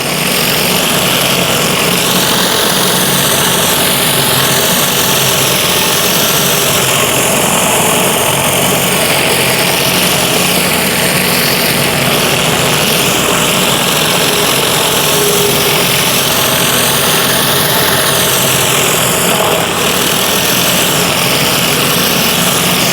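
A gas pressure washer engine runs steadily with a rotating surface cleaner working over pavement, producing a loud, constant droning whir that continues without a break throughout.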